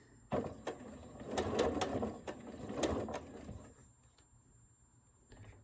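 A sewing machine stitches quilt pieces, a quarter circle joined to a background piece, running in a few close mechanical bursts of rapid clatter before tapering off into quiet.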